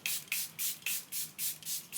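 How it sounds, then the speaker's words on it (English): A Charlotte Tilbury airbrush setting spray is pumped over a face in about seven quick, rhythmic hissing bursts, close and fairly soft, with no voices. "I'm just going to set all that down using the Charlotte Tilbury airbrush"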